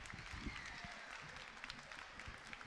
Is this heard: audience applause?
yes